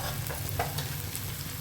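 Dried bombil fish and potato are sautéed in a pan, giving a brief, close, continuous sizzle with some stirring scrapes.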